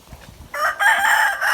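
A rooster crows loudly and close, one drawn-out call after a brief quiet moment with faint background noise.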